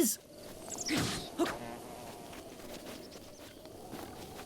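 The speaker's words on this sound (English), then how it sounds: "Fuck off, you bees!" Bees swarm in the video game The Legend of Zelda: Breath of the Wild, a steady low buzzing drone that persists throughout, with a couple of sharp impact hits near the start.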